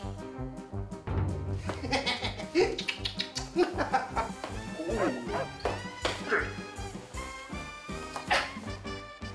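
A person's voice imitates a dog, yipping, barking and whimpering in a quick string of close, lively sounds.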